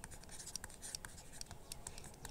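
Pen or chalk writing out a math working for a seventh-grade class, steady scratchy strokes close up with a few brief taps and pauses, no talk over it.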